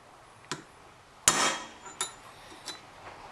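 Metal hammer strikes driving a bearing race into a boat trailer hub, four or five sharp close metallic knocks at irregular intervals, one much louder and ringing, in a quiet setting.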